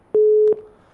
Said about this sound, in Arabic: انقطع الاتصال الهاتف